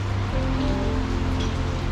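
Rain falling during a gravel cycling trip in the Carpathians, a brief steady patter of drops on surfaces with a low background hum.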